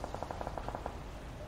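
Machine gun fire in a video game: a rapid burst of about ten evenly spaced shots, somewhat distant and muffled, then quiet.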